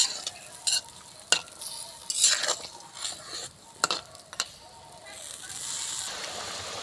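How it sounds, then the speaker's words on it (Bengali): Magur fish curry simmering in a pot, with steady bubbling and sizzle under sharp clinks and scrapes of a stirring utensil against the metal, a few louder knocks spaced across the stretch. "দেখুন মাছের ঝোল কিন্তু আমার টকবক করে ফুটে উঠেছে।"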